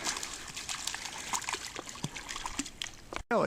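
Creek water trickles and sloshes steadily at close range on a state park trail, with small splashes and faint movement, presumably a dog wading, all under a continuous watery hiss.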